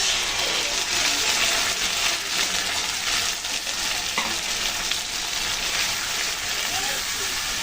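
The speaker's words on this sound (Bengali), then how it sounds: "মশলাটা দিয়ে অল্প একটুক্ষণ কষিয়ে নেব।" A masala made with mustard paste fries in a curry of fish and kochur mukhi, a dense, loud, continuous sizzle and bubbling crackle close by, with faint stirring.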